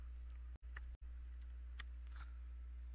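A name is typed on a computer keyboard during a VirtualBox installation: a few sparse, faint key clicks over a quiet background hum.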